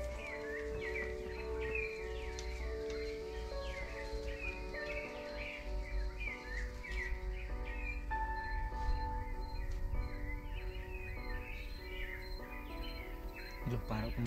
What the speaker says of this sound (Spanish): Los pájaros como si estuvieran asustados.